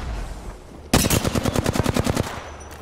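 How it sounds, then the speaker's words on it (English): Rapid automatic gunfire in the shooter game Apex Legends, a loud burst of about fifteen evenly spaced shots lasting under two seconds, then a single distant shot after a brief pause, with no speech. "Bad bots are shooting at me."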